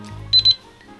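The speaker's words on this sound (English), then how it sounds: "Sorry for the beeping. This thing just won't be quiet." Two quick high electronic beeps from a small device, close by, over a low hum.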